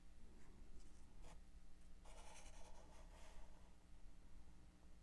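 A pencil scratches quick random lines across paper, soft and close, with brief strokes and then a longer scribbling stretch in a quiet room.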